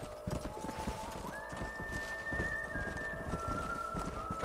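Two horses in Red Dead Redemption walk with steady clip-clop hoofbeats while a high, drawn-out whinny rises above them, the hooves rhythmic and close against a quiet outdoor backdrop.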